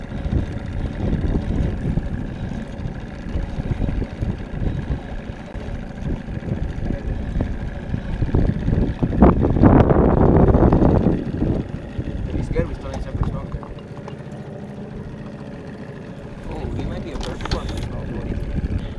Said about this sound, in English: the wind's blowing pretty good now